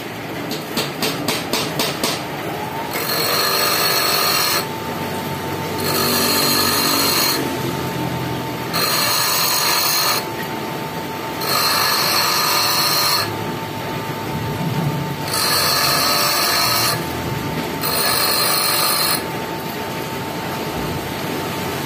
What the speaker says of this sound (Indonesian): Kita asah dulu menggunakan gerinda duduk.